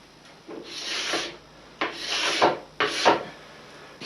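A scraper drags wax off waxless cross-country skis in three long rasping strokes, each a broad scratchy rub with a brief pause between, close and fairly loud with no voices.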